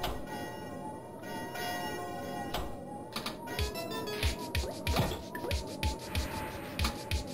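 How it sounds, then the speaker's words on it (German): Ringing bell tones and clanging chimes sound from the Pinball Fantasies video game table, mixed with rapid mechanical clicks and thumps of ball play over a steady electronic music bed. "Das Schönste an diesem Flipper ist das Glockengeläut."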